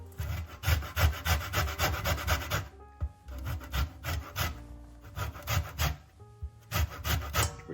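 Lemon zest grated by hand on a grater over a bowl of sugar, with steady rasping rubbing strokes in bursts and short pauses, close and fairly loud, no talking.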